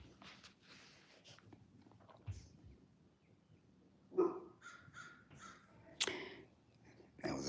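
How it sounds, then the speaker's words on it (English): Crows cawing just outside a window, a few separate harsh calls in short bursts standing out over quiet room ambience, moderately close. "That was a sign, if you heard the crow."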